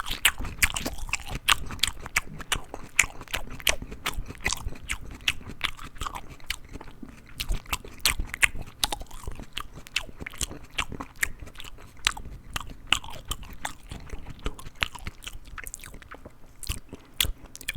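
Crunchy celery stalks bitten and chewed close to the mic in a steady run of sharp, crisp crunches and wet mastication, with no voice over it.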